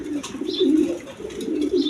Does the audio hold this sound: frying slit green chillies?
no